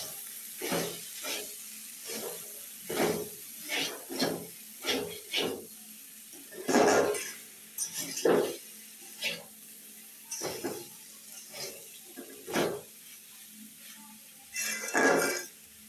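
Garlic paste is stirred into vegetables frying in a pan for a Bengali bhaji. Soft sizzling runs under intermittent scraping stirs and clinks of a utensil against the pan, close and moderate in volume.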